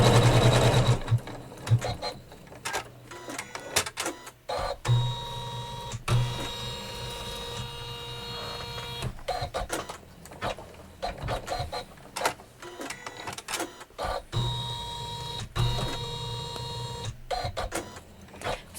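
An embroidery machine stitches a batting placement line on a quilt block, a close, steady mechanical whir with rapid needle clatter that pauses and restarts in several runs, with no voices.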